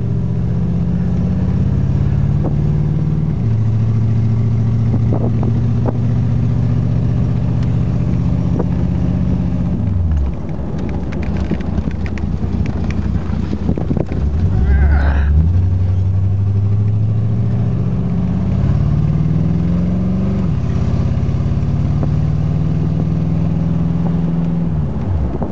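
A 1980 custom Chevrolet Corvette C3 drives along, its engine droning loud and close with rising pitch through the gears, a short lift-off near the middle, then pulling hard again under steady road noise.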